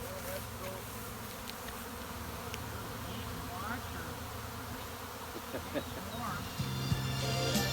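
Honeybee swarm pouring out of a hive: a dense, continuous buzzing drone of many bees close by, with individual bees zipping past the microphone and a louder hum building near the end.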